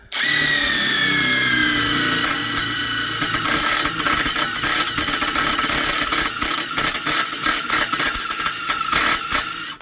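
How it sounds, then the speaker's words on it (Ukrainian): A power drill, dry with no lubricant, whines loudly at high speed, then bites into material with a rough, grinding judder that continues steadily to the end. "Ну що, починаємо безпосередньо свердлити."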